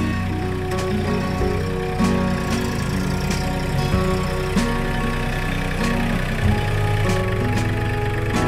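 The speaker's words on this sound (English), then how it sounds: "I wanted to do a quick review on the Mahindra tractor that I bought when we first moved to the property." A Mahindra farm tractor engine idles steadily close by, a continuous low rumble with a faint rhythmic knock that holds an even level throughout.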